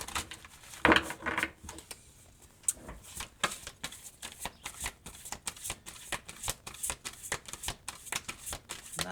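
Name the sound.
shuffling tarot cards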